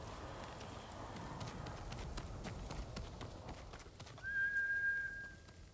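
Horse galloping in Ghost of Tsushima, with rapid rhythmic hoofbeats close by, then a shrill sustained whistle near the end.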